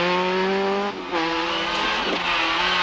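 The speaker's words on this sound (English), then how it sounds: "David Llewellyn was giving it full throttle in his Vauxhall Astra" A Vauxhall Astra rally car at full throttle on a 1994 British Rally Championship stage, its engine note loud and close, rising steadily, dipping briefly with a gear change, then pulling hard again with no talk.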